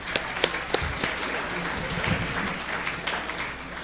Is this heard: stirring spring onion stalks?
no